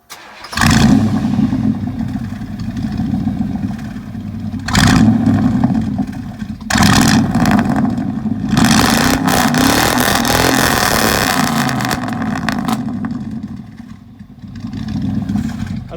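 A 1988–98 Chevy truck with a 5.7L V8 and dual 12-inch Glasspacks revs loudly up close, with several sharp throttle blips followed by one long, sustained rev that slowly falls back to idle.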